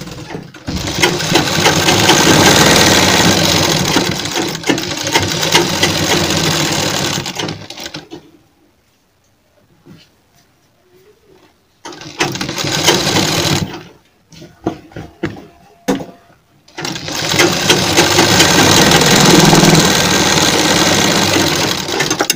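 A sewing machine stitches a cotton kurti in loud, steady whirring runs, stopping twice for quiet gaps with faint handling sounds before starting again, close to the listener, with no talking.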